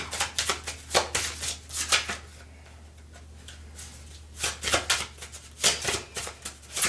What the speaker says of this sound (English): waiting for us to shuffle here